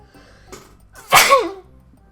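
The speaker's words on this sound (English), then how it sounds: "Oh god, I'm gonna sneeze." A single loud, close sneeze after a brief quiet lead-in, ending with a short breathy tail.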